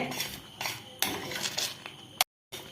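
A spoon stirs thick, boiling arrowroot chocolate pudding briskly in a pan, giving close repeated clinks and scrapes of metal on metal with a brief silent break near the end.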